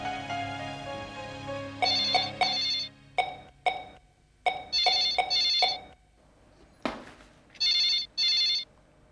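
A telephone rings in repeated electronic bursts, short chirps followed by longer doubled trills, loud and close with pauses between rings and no talking over them.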